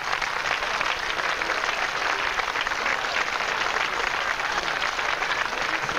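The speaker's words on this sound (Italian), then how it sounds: "vorrei che facesse un bel applauso" Sustained audience applause fills a concert hall during a 1990 live big band performance in Italy, a steady dense wash of clapping from many hands, loud and unbroken throughout.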